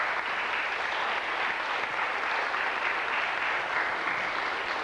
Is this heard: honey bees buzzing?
no